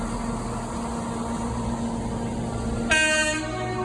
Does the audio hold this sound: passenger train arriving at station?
yes